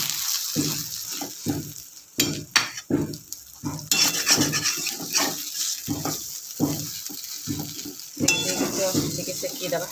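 Bread pieces fry in oil in a pan, heard as close, bursty sizzling and clattering stirring that come and go in irregular clumps, loud then briefly quieter.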